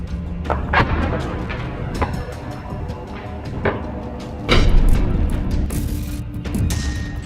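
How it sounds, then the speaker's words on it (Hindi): Israeli tanks are blown up in Gaza by explosives buried in a tunnel underground, heard as a series of sharp, heavy blasts and cracks at irregular intervals, with a sustained rumbling boom building midway. "हमास के लड़ाके पहले इजरायली टैंकों को जमीन के नीचे सुरंग में गोला बारूद बिछाकर उसे उड़ा देते हैं"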